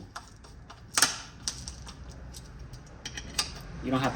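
A ratchet tightens 13 mm transmission pan bolts on a Chevrolet Equinox, giving quick metallic clicks and ticks in short irregular bursts, close by, with a brief scrape near the end.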